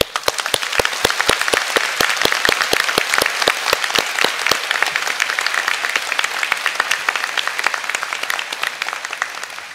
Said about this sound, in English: join me in congratulating you, our graduates, with one last well-deserved round of applause